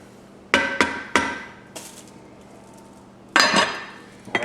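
Metal pot lid and cookware clanking at close range as a pot of spaghetti with meat sauce is covered, several sharp knocks and rattles with a quiet gap between bursts.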